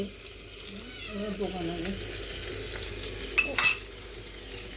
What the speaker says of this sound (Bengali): এই যে সোয়াবিন আলুর তরকারি করছে